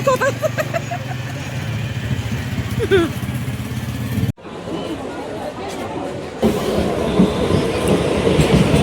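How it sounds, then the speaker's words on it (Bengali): A crowded passenger train rumbles along with rhythmic wheel clatter and occasional squeals, while people chatter nearby. A sharp break midway gives way to a louder, rougher run. "ট্রেন বাবাজি যাচ্ছে"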